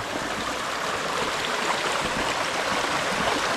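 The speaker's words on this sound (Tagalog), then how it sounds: "Pero gumanda yung sapa natin dito." Creek water running steadily after heavy rain from a typhoon, a continuous broad rushing flow, close and even in loudness with no breaks and no voices.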